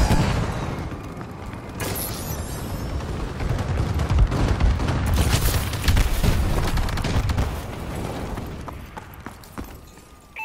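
Call of Duty Advanced Warfare bombing run: a rumbling string of explosions and crackling blasts, swelling in the middle and easing toward the end, with mechanical clatter mixed in.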